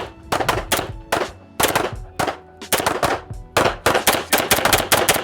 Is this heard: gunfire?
yes